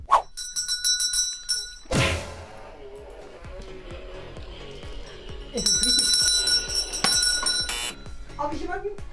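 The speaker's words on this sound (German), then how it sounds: "Du mit der Glocke, Leute, noch mal bitte." A hand bell rings during a blind Nerf gun challenge in two separate bursts of bright, sustained ringing, mixed with thuds and people talking.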